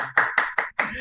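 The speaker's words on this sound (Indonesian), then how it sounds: "teman-teman semuanya kasih tepuk tangan dong buat tim pujian" Audience at an evening worship service claps for the worship team in a few choppy bursts of hand claps, close and moderately loud, with short gaps between them.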